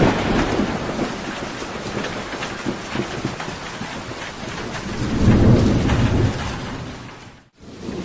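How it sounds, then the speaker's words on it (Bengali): Steady heavy rain on a roof patters and hisses without a break, with a deep rumble swelling midway and fading near the end. "শুধু ঘরের চালের উপর বৃষ্টির জল পড়ার শব্দ শোনা যাচ্ছিল"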